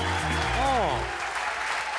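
A studio audience claps together at a televised variety show during a cooking segment, a dense, steady wash of applause lasting the whole moment, with cheering voices rising over it midway.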